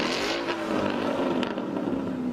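A Ford Mustang 5.0 convertible, rated at 500 horsepower, runs with a loud, steady engine roar and road rush, the throaty drone holding close and constant without talk.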